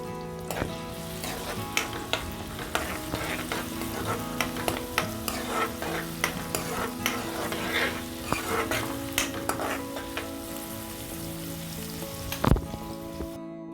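Sliced onion and green chilies stir-fried in hot oil for a mutton curry, a steady sizzle under repeated metallic scrapes and clinks of a spoon against the pan, close up, with no talking.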